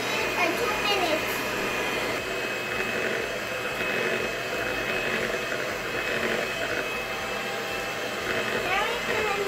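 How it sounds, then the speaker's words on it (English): An electric mixer whirs steadily through pancake batter, a loud continuous motor drone lasting several seconds with faint background voices. "Now we have to mix with the machine. We will mix in the machine for 2 minutes."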